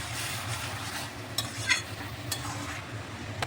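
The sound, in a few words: stir-frying cabbage with ghee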